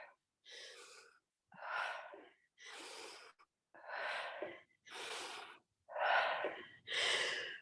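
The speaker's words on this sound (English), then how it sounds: "So here's your time to recover your breath." Heavy, rhythmic breathing after a Pilates exercise, seven close, loud breaths in a row separated by short pauses as someone recovers.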